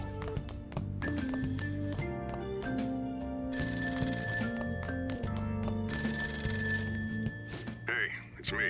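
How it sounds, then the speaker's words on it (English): A telephone rings downstairs in Persona 5 Royal, its repeating bell tone heard over layered game music at moderate level. "That ringing sound isn't coming from my cell phone."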